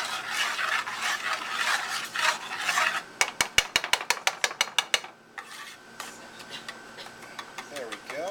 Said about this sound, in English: So you're going to be mixing it around, getting the butter and the sugar